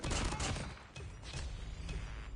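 Rapid bursts of gunfire in the mobile shooter Call of Duty Mobile, a dense, continuous stream of shots heard up close and fairly loud with no talk over it.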